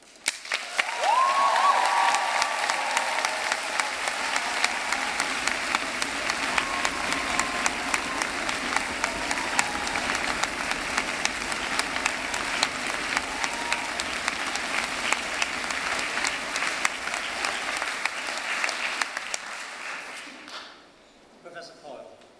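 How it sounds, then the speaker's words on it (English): Sustained loud applause with cheering from a large audience opening a 2016 university graduation ceremony, an even, dense roar of clapping lasting some twenty seconds before cutting off. "I'd like to hear huge applause and cheers to open this 2016 graduation ceremony."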